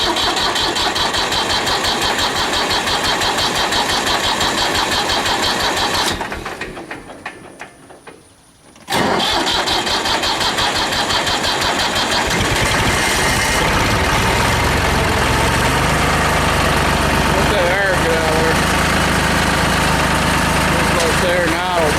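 A tractor engine runs loud and rough, cuts out into near silence for a few seconds, then cranks and catches again, settling into a steady idle with a faint voice in the background.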